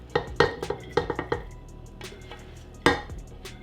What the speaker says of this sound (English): First thing I'm gonna add to the crock pot vessel is my 20 ounces of ground turkey that I've cooked on the stovetop.